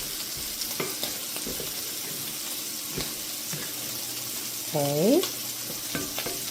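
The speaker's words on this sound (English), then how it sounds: "Let me stir fry it." Chicken and sausage stir-fry sizzling steadily in a hot pan, a low continuous fry with occasional scraping clicks from stirring, and a brief spoken word near the end.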